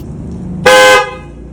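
A single loud, bright aftermarket car horn blast on a fifth-generation Toyota Prius sounds for about a third of a second, close by, over a low idling hum.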